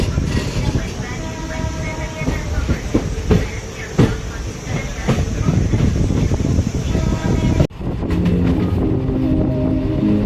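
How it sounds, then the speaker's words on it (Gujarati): The Bhavnagar–Surendranagar passenger train 59228 pulls away on a curve, a loud continuous rumble with wind buffeting and periodic wheel knocks, a voice talking over it, and a sudden cut near the end into steadier running noise. "ટ્રેનનું ડિપાચર"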